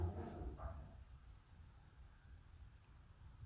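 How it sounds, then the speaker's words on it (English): A dog barks indoors in a home craft room, a couple of short barks early on, somewhat distant and muffled over low background hum. "My dog's decided to have a bark"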